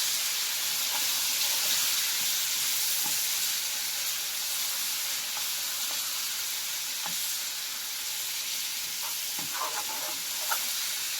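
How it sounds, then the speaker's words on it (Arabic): Garlic frying in ghee gives off a steady, dense sizzle with soft crackles and pops scattered through it, close and continuous, with no talking. "السمنة يا جماعة على قد ما بتحطوا التوم، عشان التوم يتحمر حلو."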